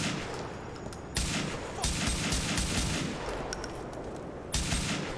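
Sustained gunfire from the Grand Theft Auto IV video game rattles as dense, noisy bursts that swell at intervals, with someone speaking briefly over it.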